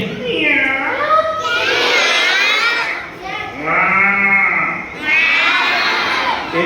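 Voices give long, drawn-out mooing calls imitating a cow during a puppet show, three sustained cries separated by brief pauses, loud and close.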